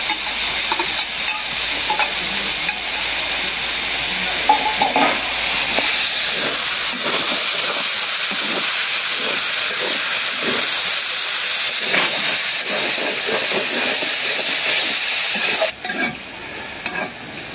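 Shrimp, cabbage and potato sizzle and hiss steadily in a hot pan, with frequent stirring scrapes and clinks running through the whole stretch, close and fairly loud, with no talking.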